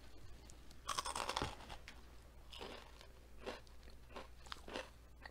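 Close, crisp crunches come from biting into breaded asparagus, followed by a run of softer chewing crunches that rise and fall irregularly, with no talking.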